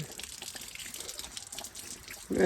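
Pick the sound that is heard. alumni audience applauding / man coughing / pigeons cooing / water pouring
water pouring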